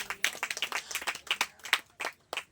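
A church congregation clapping in a quick, uneven rhythm, many sharp claps close together across the whole stretch, fairly quiet and near.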